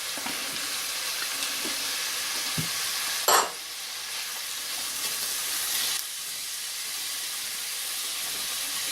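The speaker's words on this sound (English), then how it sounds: "at this point, garlic in. We'll just cook this for maybe a minute" Garlic fries in a pan with linguiça and onions, a steady loud sizzle and hiss running throughout, with a brief sharper burst of spattering partway through and a couple of faint utensil taps.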